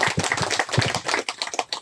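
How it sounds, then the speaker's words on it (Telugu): An audience claps for a speaker at a gathering, a brisk run of close, overlapping hand claps that carries on steadily without voices. "ఒకసారి గట్టిగా చప్పట్లు కొడదామండి"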